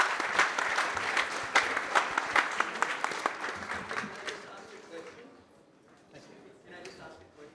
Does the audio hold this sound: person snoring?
no